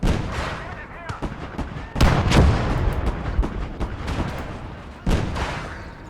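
Artillery fire in a WWII video game booms out in heavy, close blasts, one big report at the start and two more a few seconds apart, each trailing into rumbling, crackling decay.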